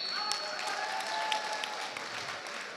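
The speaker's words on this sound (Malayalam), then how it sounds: "ഉഗ്രനൊരു കയ്യടി ഒരിക്കൽ കൂടെ" At an alumni anniversary event, a crowd gives a sustained round of applause, a continuous wash of clapping heard from a little distance, with faint tonal sounds drifting through it.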